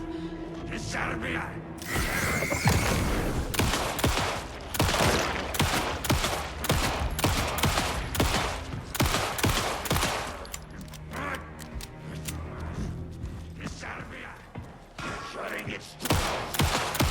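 Gunfire in the horror game Alan Wake II: loud, sharp shots fired in irregular bursts over about seventeen seconds, with mechanical clicks and quieter gaps between volleys; brief voice sounds occur but no clear talk.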